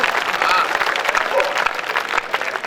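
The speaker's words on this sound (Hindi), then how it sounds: "एक बार जोरदार तालियां बजा।" Audience applause at a nighttime Hindi poetry gathering (kavi sammelan) held at an educational institute, brisk and fairly loud clapping from a crowd, with voices mixed in beneath it.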